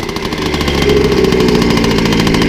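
A 1990 MBK 51 moped's two-stroke engine idles loudly and close on choke, with a rapid, rattling putter that holds steady throughout.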